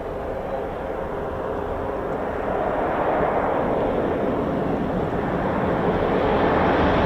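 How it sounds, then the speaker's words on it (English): A RAF 45 Squadron Phenom taxiing at Cranwell, a steady loud jet engine roar that swells slightly and holds throughout, heard alone without talk. "There is another one just taxiing now."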